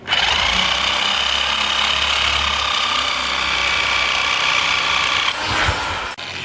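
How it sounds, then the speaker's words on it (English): A Chicago Electric power shear from Harbor Freight, rated for 14-gauge (1.9 mm) sheet, cuts thin sheet metal with a loud, steady high-pitched motor whine and grinding buzz that runs for several seconds, then cuts off abruptly near the end. "This is just a Chicago electric shear from Harbor Freight."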